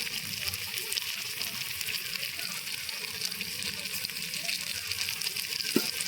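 Vegetables frying in a pan for veg pulao: a steady, even sizzle and hiss with a faint clink near the end, fairly quiet and continuous.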